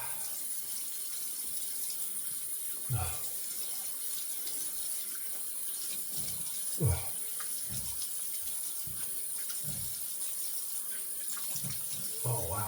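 A bathroom tap runs softly and steadily while shaving gear is rinsed, with a few brief splashes and knocks breaking the faint flow of water; no one speaks over it.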